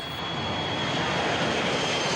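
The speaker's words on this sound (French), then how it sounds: "Notre avion décolle à 11h30." A fixed-wing airliner's engines roar in a steady, dense rush during takeoff in 1979, heard from inside the cabin, continuous and fairly loud throughout.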